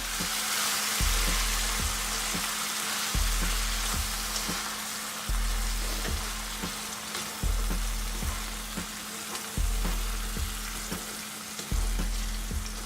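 Lamb marinated in yogurt fries in a pan, a loud continuous sizzle with periodic stirring scrapes and low thumps recurring every couple of seconds, close up and with no talking.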